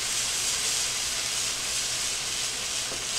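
Food sizzles steadily in a pan with sesame oil, a continuous close, loud hiss and crackle that holds evenly throughout with no talking.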